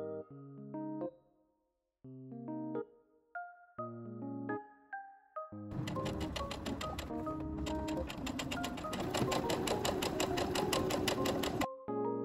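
A sewing machine stitches shoulder straps onto a summer Lolita dress, a fast, steady mechanical whir with rapid ticking that runs close and continuous for about six seconds, preceded by soft tonal music notes.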